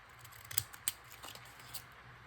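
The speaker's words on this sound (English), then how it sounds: "So I think I'll stick with the ripple scissors for the main image." Ripple-edged craft scissors snip through paper while cutting faux postage stamps, giving a few crisp, quiet close-up snips and rustles over about two seconds with no talking.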